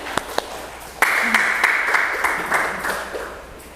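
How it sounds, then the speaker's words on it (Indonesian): A few scattered claps, then a room breaks into applause that holds steady, with a bright tone ringing underneath. "beri tepuk tangan"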